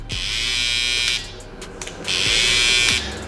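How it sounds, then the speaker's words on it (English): A Babyliss Pro FX hair trimmer with a brushless motor switches on twice, each time giving a steady, close, high-pitched electric buzz that holds for about a second before cutting off, with no talking. "even turning the trimmers on, you see it has that little delay"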